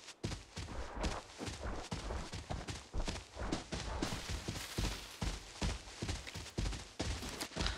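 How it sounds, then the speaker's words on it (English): Footsteps on a wooden floor in the shooter game Arena Breakout, a quick, irregular run of fairly loud thuds and scuffs that fills the whole stretch, with no talking. "I just heard footsteps on wood."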